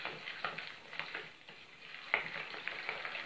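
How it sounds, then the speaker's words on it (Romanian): A spoon stirs a thick Easter cake filling of cheese with chopped chocolate in a bowl, producing soft, repeated wet scraping and squelching strokes at close range. "Și acum amestecăm din nou."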